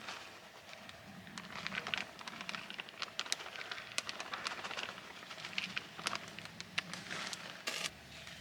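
Soft rain patters steadily on a surface nearby in a gorge in New York, with scattered sharper drops and light crackling, quiet and without voices.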